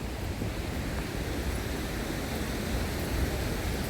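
Steady rushing water from a glacier-fed waterfall, a constant broadband roar, unbroken throughout.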